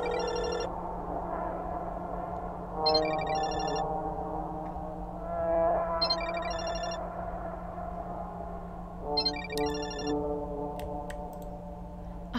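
A phone ringtone plays from a balcony in a horror video game, sounding as repeated short bursts of bright electronic chirps spaced a few seconds apart, fairly faint and distant over a quiet hum.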